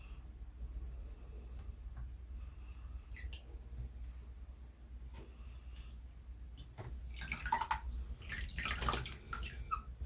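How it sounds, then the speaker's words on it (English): Water splashes and trickles in a few brief bursts as a guinea pig is dampened for a bath, strongest toward the end, while faint high chirps sound softly in the background. "one of the things I'm going to do first is just dampen him in the water"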